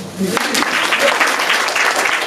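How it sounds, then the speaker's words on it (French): Applause from a small audience at a comedy club open mic, starting after a short voice and continuing as an even patter of clapping for a couple of seconds. "Ben, applaudissements."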